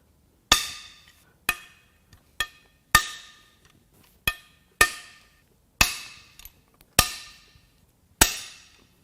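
Sharp metallic impacts ring out one by one, about ten in all at uneven intervals, as a long socket works bolts loose on a supercharged Jaguar 3.0 AJ V6 engine during teardown; each hit rings briefly and fades, with quiet between.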